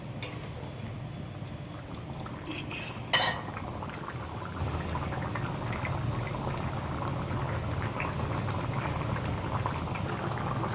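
Shing fish curry gravy boils in a pot, a steady close bubbling and simmering that carries on throughout, broken early by a few short clinks and one sharp knock.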